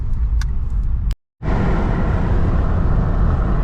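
A 2008 Acura TL on the road after a transmission install and rear main seal replacement, heard from inside as a loud, steady engine and road roar, cut by a brief silent gap before the drone resumes and holds.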